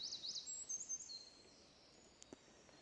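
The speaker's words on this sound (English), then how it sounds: "Other than the monks chanting, you just hear the bird song this morning." Birdsong at a Buddhist temple cemetery in Koyasan, Japan, on a quiet morning: faint high chirps and warbles in the first second, then a few distant brief calls over soft ambient hush.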